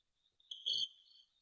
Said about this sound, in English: We don't want to hear crickets.